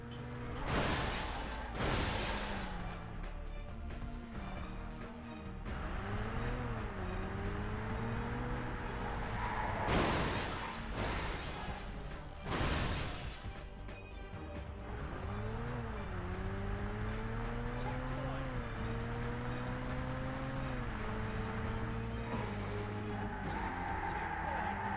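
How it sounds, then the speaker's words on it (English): Burnout racing game on the GameCube, played with a wheel, with cars engines revving and shifting pitch steadily throughout, broken by several loud whooshing crash and passing bursts. "Burnout 2 and especially 3 are absolute whack when playing with a wheel, as they are way faster and more frenetic games than the original."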